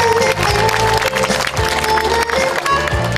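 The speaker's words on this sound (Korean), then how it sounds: "박수 한번 맞아 주십시오." A crowd at a city citizens' day opening ceremony applauds introduced local cooperative heads, the clapping loud and close over a background of steady music tones, continuing throughout.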